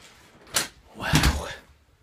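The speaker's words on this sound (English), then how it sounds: "It appears that the door opens." A house door opens in cold Canadian winter conditions: a short click or latch, then a louder, longer thud and scrape as it swings, close by and with no talk.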